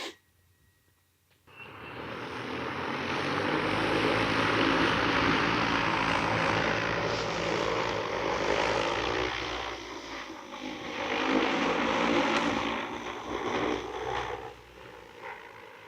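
J150 agricultural spray drone, loaded with 18.5 gallons, spinning up after near silence and lifting off, its rotors a loud steady buzzing roar that swells and wavers as it climbs away and fades slightly.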